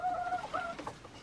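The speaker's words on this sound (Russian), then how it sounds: "Прям хочется курицу на руки взять." Hens in a backyard flock cluck close by in a short burst of uneven, chattering calls, with no talking over them.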